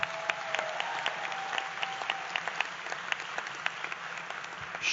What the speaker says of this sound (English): ask you to give her a big round of applause